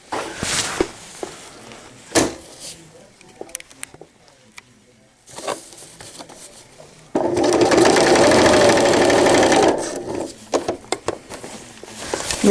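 A sewing machine stitches velcro (aplix) onto a cloth diaper: short stop-start runs of stitching, then a long steady whirring burst in the middle before it slows again.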